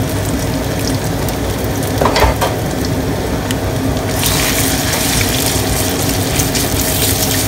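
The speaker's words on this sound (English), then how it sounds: "you're going to fry the beef first. So I put that in." Beef drops into hot oil already holding bay leaves and fries with a loud, dense, continuous sizzle that swells and grows brighter midway, with faint clicks and clatter from the pan.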